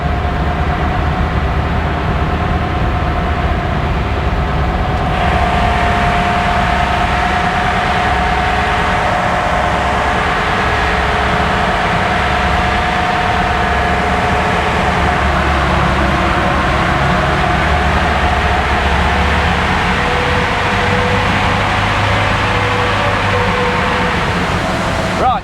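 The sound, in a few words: truck engine running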